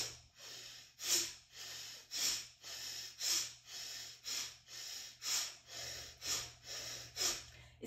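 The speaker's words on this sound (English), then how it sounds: "exhale forcefully" Rhythmic forceful exhalations during a breathing exercise, about a dozen sharp breathy bursts at a steady pace, each pushed out hard with quieter inhales between, close and fairly soft.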